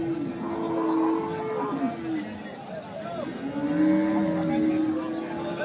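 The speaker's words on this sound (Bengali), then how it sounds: "এখানে যে গাভী গরুগুলো প্রায় বিক্রয় করা হচ্ছে" Cattle moo repeatedly at a village livestock market where Sahiwal, Sindhi and local-breed dairy cows with calves are being sold, long low calls rising over a steady crowd murmur and voices throughout.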